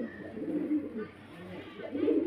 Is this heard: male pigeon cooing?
yes